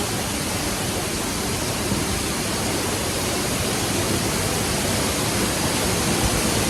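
Loud waterfall roar at a cafe in Chiang Rai, Thailand, a dense steady rush of falling water filling the whole clip without a break, close and overpowering.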